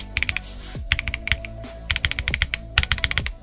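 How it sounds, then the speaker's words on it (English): Stock KBDCraft Lilith mechanical keyboard kit being typed on: bursts of crisp, close keystrokes in quick rhythmic runs with brief pauses between them, no talking. "I'm going to go ahead and leave you guys with a stock sound test of Lilith"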